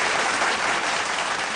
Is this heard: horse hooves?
no